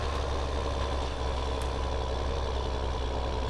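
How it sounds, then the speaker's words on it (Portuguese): A tractor engine in the Farming Simulator 2015 video game drones loudly and steadily throughout, a dense, continuous rumble with no talk over it. "Esse trator aqui é barulhento, hein, mano."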